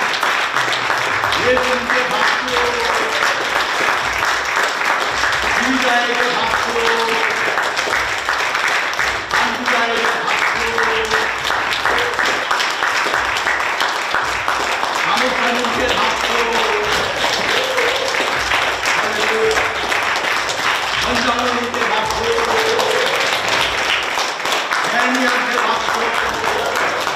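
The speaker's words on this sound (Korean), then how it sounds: "박수 좀 쳐봐요, 박수" Sustained, dense applause from a congregation at a Korean Presbyterian Sunday worship service, steady clapping throughout with people talking over it.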